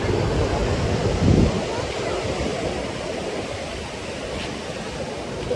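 Ocean surf rushes in a constant loud wash at Echo Beach, Canggu, Bali, with heavy wind buffeting the microphone.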